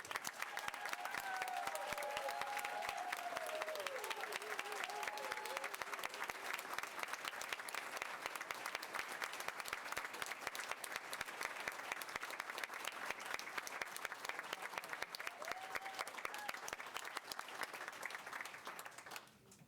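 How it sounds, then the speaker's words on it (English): A school board meeting audience gives students a standing round of applause, with long, sustained, dense clapping from a sizable crowd, a few faint whoops or cheers near the start, and the clapping cutting off abruptly at the very end. "So if everyone in the audience please rise and give these students one more round of applause."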